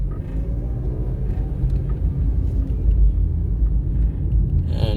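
A car driving along a coastal highway in a road improvement zone, heard from inside as a steady, loud low rumble of engine and road noise with no pauses.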